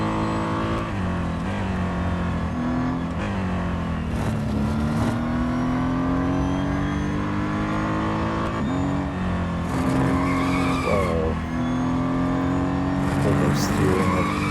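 A Formula 1 car screams through gear changes at Yas Marina Circuit in the racing game Real Racing 3, the high engine note rising and dropping with each shift, loud and continuous, with a voice talking over it.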